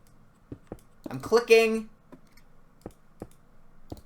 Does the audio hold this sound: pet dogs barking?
no